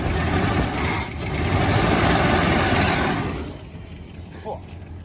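Car engine at a compound full of cars, cranked and then running at a steady idle, loud and close with a continuous low rumble that eases off toward the end; voices are heard briefly over it.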